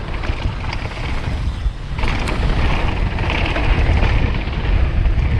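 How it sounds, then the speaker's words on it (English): Strong wind roaring and buffeting past a rider on a custom-built downhill mountain bike, loud and close, a dense continuous rush that swells slightly midway with no speech. "Ah, the wind."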